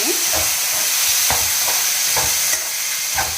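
Tomato and onions frying in oil in a pan for a leafy vegetable curry, steady loud sizzle with repeated scraping stirs of a spoon, no talking.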